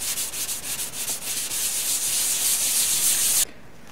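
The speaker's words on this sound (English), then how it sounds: "Lots of sanding." Hand sanding of a scratch coat on a Honda Sabre cafe racer, close and fairly loud, with a steady run of rhythmic rubbing strokes that stop abruptly just before the end.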